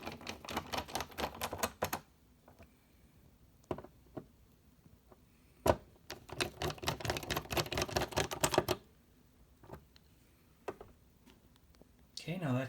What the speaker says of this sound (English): I'll just go ahead and finish tightening up these screws on the bracket that is mounted to the rear of the television.